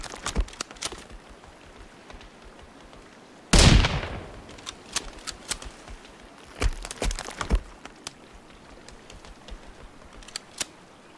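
Gunfire in the Sons Of The Forest video game: scattered sharp cracks, one louder blast with a trailing rumble, then more shots in quick irregular bursts.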